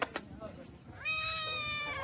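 A trained cat gives a clear, drawn-out meow near the microphone after a couple of brief sharp noises and a quiet pause.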